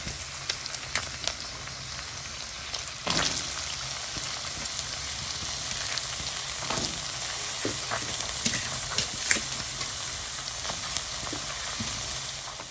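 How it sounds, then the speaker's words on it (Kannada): Chopped onions fry in a pan of oil and ghee with cloves and cardamom, a continuous soft sizzle with scattered pops and crackles and a few stirring knocks, moderately quiet throughout. "ಈರುಳ್ಳಿನ ಚೆನ್ನಾಗಿ ಹುರ್ಕೊಳ್ಳೋಣ, ಕಲರ್ ಚೇಂಜ್ ಆಗುವವರೆಗೆ"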